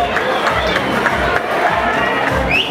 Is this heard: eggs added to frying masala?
no